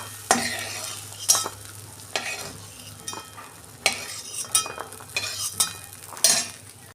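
Bori lentil dumplings fry in a pan as a utensil scrapes and stirs them. Sharp, irregular scraping strokes rise over a soft, steady sizzle, close up with no talking.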